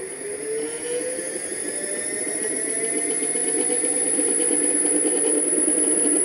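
A Xiaomi M365 electric scooter converted to a 2kW rear-wheel-drive motor, throttle opened, gives a steady rising electric whine with faint high tones that climbs gently in pitch and loudness, close and with no talking.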